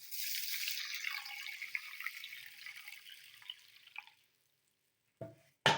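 Water pours steadily into a vessel of rice set to soak for a coconut-rice tiffin batter, a gentle trickle lasting about four seconds before stopping, followed by a couple of brief knocks.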